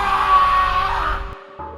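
A man's scream of terror in a Hindi horror story about a haunted mansion, a loud sustained high cry lasting over a second before cutting off.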